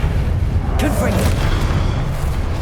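Confringo fire spell blasting in Hogwarts Legacy, a single loud booming burst with crackling debris over steady game ambience and rumble.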